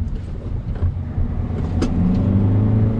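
A 2016 Hyundai Avante AD (Elantra) drives in sport mode, its engine hum and road rumble rising and steady from inside the cabin, with no talking.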